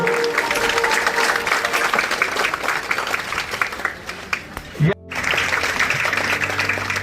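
A large crowd claps continuously and loudly at an inauguration ceremony in Bhimnagar that unveils a 21-foot Buddha statue. The applause is dense and steady and briefly cuts out near the end before resuming.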